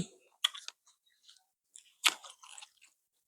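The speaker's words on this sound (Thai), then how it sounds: "บางคำแรก อาจจะกินกรุบกริบหน่อยๆเพื่อนๆ" Steamed squid is chewed close to the microphone, giving a few crisp, crunchy bites and short chewing clicks separated by near silence.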